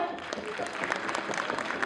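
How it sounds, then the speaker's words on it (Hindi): A crowd at a school annual function applauds steadily, a dense wash of clapping heard at moderate distance with faint voices underneath. "जोरदार तालियां।"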